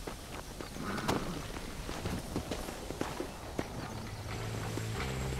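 Horse hooves trotting on ground in the video game Red Dead Redemption, a quiet steady series of soft clip-clop hits with faint background game ambience.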